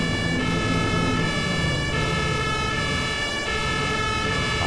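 A toy fire truck's electronic siren wails continuously, loud and close, in a steady repeating electronic tone with no talking.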